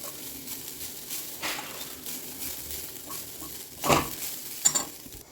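Grated coconut dry-roasts in a pan over a medium flame, giving a soft sizzle under repeated scraping stirs and occasional clinks of utensil on metal.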